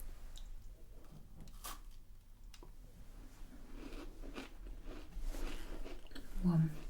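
Someone bites and chews a biscuit close up in a quiet room, with soft crunches, squishy mouth sounds and a few sharp clicks, and the chewing grows louder near the end.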